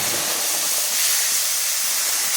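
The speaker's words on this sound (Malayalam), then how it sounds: "ഇതിന് ശേഷം നന്നായി തിളച്ച വെള്ളം ഇതിനകത്തേക്ക് ഒഴിച്ചു" Boiling water poured into roasted semolina for upma sets off a loud, continuous steaming hiss close by, with no voices.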